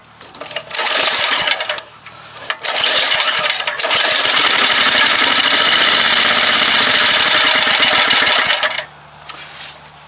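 Troy-Bilt rototiller engine running with the choke on, coming to life after sputtering, then holding a loud, steady, rough-edged run for several seconds before dropping back to a quieter, uneven idle.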